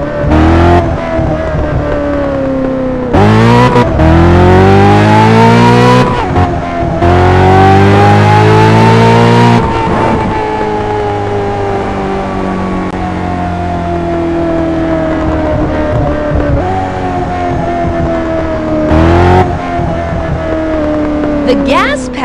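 A car in the driving game Test Drive Unlimited 2 accelerating and revving loudly and close, engine pitch climbing through several gear changes with brief drops between, under a voice.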